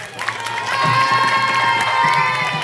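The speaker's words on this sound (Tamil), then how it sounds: "அதுக்கு முதல்ல ஒரு கைத்தட்டல் கொடுக்கணும் அவங்களுக்கு." A crowd at a Tamil drama troupe event cheers and shouts, with children's voices and whoops rising loudly over some clapping in a lively, continuous burst.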